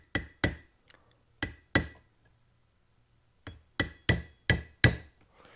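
A small hammer taps on a seized part of a 1970 Honda CL100 motorcycle, sharp metallic clinks in a pair, another pair, then a quick run of five, close and fairly quiet with pauses between.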